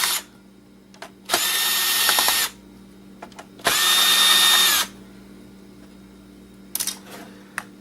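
A power screwdriver removes screws from an old laptop board in two loud bursts of whining drill, each about a second long, with light clicks and handling sounds between them.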